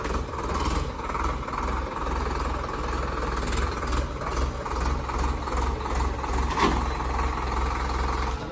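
A running Swaraj 855 tractor diesel engine rumbles steadily and close, a dense continuous drone with faint knocking pulses and no talk.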